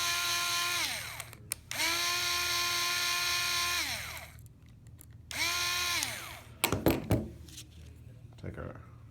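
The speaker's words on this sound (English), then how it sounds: "We're going to use a drill." A power drill unscrews screws from the end plate of a MiniWiper in two long whirring bursts, each pitch rising, holding steady and winding down, followed by clattering handling noises.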